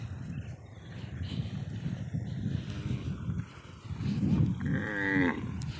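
A large herd of cattle filing in a line across a Padma river char in a border area, with deep drawn-out lowing calls rising over outdoor wind and rumble, the loudest moo coming near the end.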